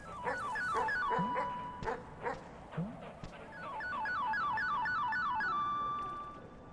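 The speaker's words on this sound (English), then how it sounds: "you either have to listen to these dogs all panting, or you gotta listen to them all barking" Several dogs yip and bark in short bursts over a looping electronic melody in the video game Animal Well, with whimpering cries scattered between the barks.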